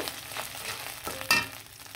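Ground spices sizzle in hot oil with onion and garlic paste in a home kitchen, a soft, steady frying hiss with a few stirring scrapes and a brief clink near the end.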